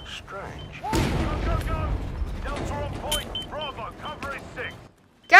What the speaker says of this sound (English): It's explosion time.